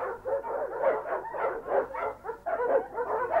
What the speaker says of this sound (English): Oh no! More dogs!